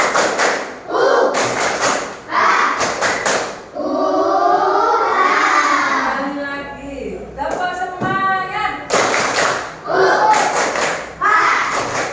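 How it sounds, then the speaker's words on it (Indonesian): A class of young schoolchildren does a tepuk semangat clapping chant, bursts of sharp rhythmic claps alternating with loud chanted voices, fairly close and repeated several times. "kita tepuk semangat dulu ya. Dan 3 kali. Tepuk semangat."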